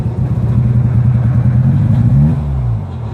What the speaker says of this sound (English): If I try to give it any gas, it'll RPM up, and then it stalls and comes back down again.